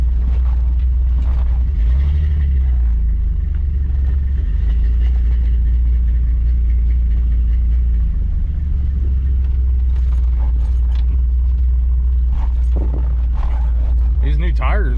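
A Chevy Blazer engine runs steadily while driving on new tires, a loud continuous low rumble and road drone from inside the cabin, with someone talking over it.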